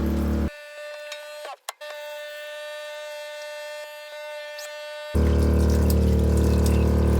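Water runs steadily from a sailboat galley tap onto dishes in the sink, a continuous close hiss that cuts in and out as the flow is stopped and restarted.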